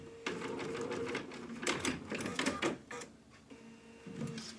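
A sewing machine back stitches along the skirt of a dog's dress, with short bursts of stitching that stop and start and shift in pitch. The machine is close and steady, and no one talks.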